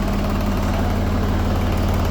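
An ACE Veer mini tractor's engine idles steadily and close by, a low, even diesel throb with a constant rhythm and no voices over it.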